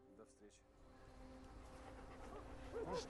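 A dog whimpers and yips softly while jumping up on a person, thin whining cries over a low, steady background, growing a little louder toward the end.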